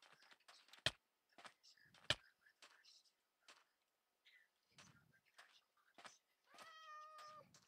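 A cat meows in a Minecraft-style village during a game, a short rising-falling cry near the end, mixed with sharp clicks, brief game sounds and faint speech-like bits.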